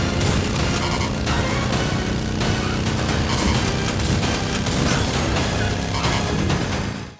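Dense, continuous barrage of gunfire and booming blasts in the Terminator 2D No Fate video game, loud and unbroken for several seconds before cutting off abruptly.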